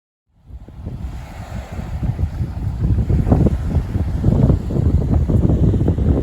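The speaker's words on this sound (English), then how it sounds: "I'm fighting a little bit with the wind today." Strong wind buffets the microphone outdoors at a riverside during mudlarking, a loud, continuous rumbling roar that rises from silence and keeps gusting.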